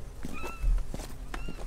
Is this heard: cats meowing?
yes